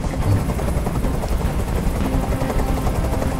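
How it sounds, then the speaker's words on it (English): A helicopter in the Detroit: Become Human video game hovers nearby, its rotor throbbing in a dense, continuous roar that stays loud and steady throughout. "can't stand that noise anymore! Tell that helicopter to get out of here!"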